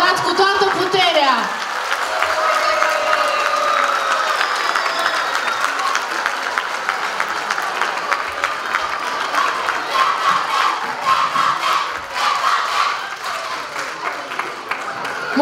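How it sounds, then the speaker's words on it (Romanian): An audience at a children's dance competition awards ceremony applauds and cheers loudly, a dense sustained wash of clapping from a large crowd that keeps going throughout, with brief voices mixed in at the start. "Vă rog să aplaudați cu toată puterea!"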